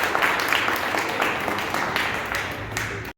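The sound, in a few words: audience applause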